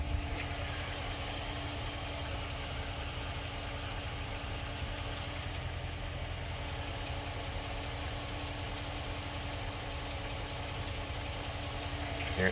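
A Hemi V8 engine runs at a steady fast idle of around 1500 RPM, a constant mid-pitched hum with faint mechanical ticking underneath, unchanging throughout.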